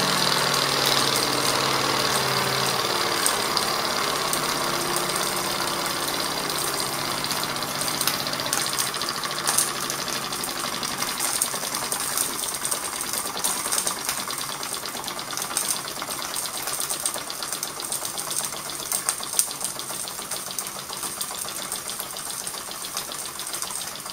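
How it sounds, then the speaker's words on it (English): A small model steam beam engine runs briskly and continuously, running too fast, its rapid mechanical clatter steady and close with no pauses and no talking. "going a bit faster than you'd want to see for a beam engine"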